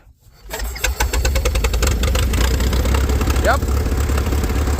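The engine of a 1912 Continental race car catches and runs loudly at close range, a rough, rapid pulsing beat given a little throttle, with a brief spoken word over it.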